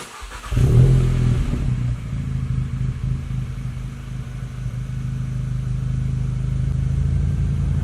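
A car with an aftermarket catback exhaust cranks over and catches, followed by a deep, steady exhaust idle rumbling loud and close throughout.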